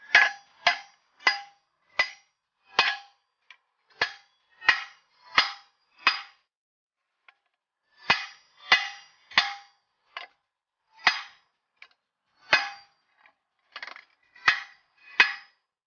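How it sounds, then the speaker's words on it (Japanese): A hammer strikes a cut stainless steel exhaust part for a Honda CD50 motorcycle, sharp metallic clangs repeated in irregular bursts of two to four blows with short pauses, close and clear against silence. "あとはハンマーでバッチンやります。"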